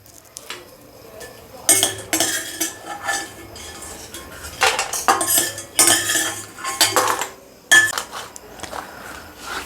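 A utensil scrapes and clinks against a pan while dried fish is stirred and dry-roasted until reddish, with irregular bursts of metallic scraping spread through the clip, close and fairly loud.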